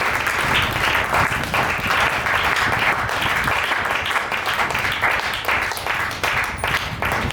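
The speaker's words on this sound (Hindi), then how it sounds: "क्या आप ताली बजा सकते हैं?" A church congregation at a Hindi-language worship service breaks into loud, sustained applause, a dense wash of many hands clapping steadily throughout with no speech over it.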